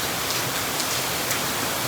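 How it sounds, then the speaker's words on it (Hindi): Heavy monsoon rain pours down in Vadodara, India, as a dense, unbroken hiss close at hand, steady and loud throughout with no voices. "क्या ही बारिश हो रही है"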